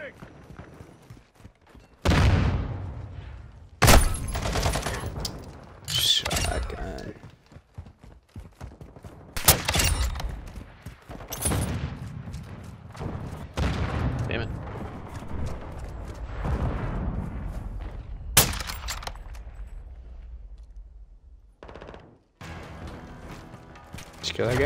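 Rapid gunfire and sharp shotgun blasts in the shooter game Call of Duty Modern Warfare 2, loud bursts scattered throughout, sometimes fired in quick volleys, with someone talking and laughing between shots.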